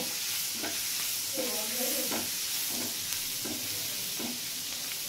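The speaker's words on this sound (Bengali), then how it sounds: "রসুন কুচিটা দিয়ে আমি প্রথমে একটু হালকা করে ভেজে নেব" Chopped garlic fries lightly in a pan with cashews, making a steady soft sizzle and hiss broken by several scraping stirs of a spatula, with no talking.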